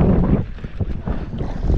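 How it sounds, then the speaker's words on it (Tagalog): Cold gusty wind at sea buffets the microphone over a low rumbling boat engine, steady and close, with no voices. "Malamig ang simoy ng hangin."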